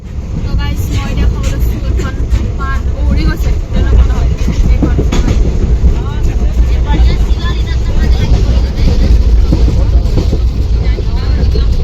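A passenger train runs on the rails from Dhemaji toward Gohpur, a loud, steady rumble with rattling carriages and faint rhythmic clatter heard from inside the coach.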